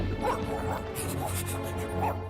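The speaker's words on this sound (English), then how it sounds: "Gotta kill the dog." Dogs bark in the Genshin Impact video game, several short yips and barks over a dense, continuous game soundtrack with combat noise.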